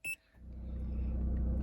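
A short electronic beep, then a Chrysler PT Cruiser's engine settles into a low, steady running rumble close by.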